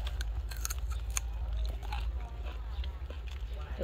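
Someone takes big bites of food and chews it up close, making wet crunching and mouth sounds over a steady low rumble, while people talk in the background.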